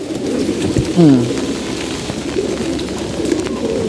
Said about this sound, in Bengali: এদিকে আমাদের কবুতরগুলো দেখেন খাবার দাবার সব খেয়ে শেষ করতেছে